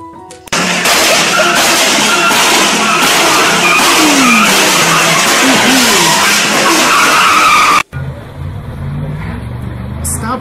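A car skids and slides down a hill, with a loud, sustained roar of tires and engine, squealing sweeps, and then an abrupt cut to a quieter scene, with voices mixed under the noise.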